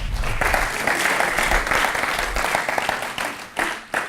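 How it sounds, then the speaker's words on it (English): Audience applause at a business conference for entrepreneurs: sustained, loud clapping from a crowd that holds steady for several seconds, then breaks into a few scattered final claps. "Please give a round of applause to Vava"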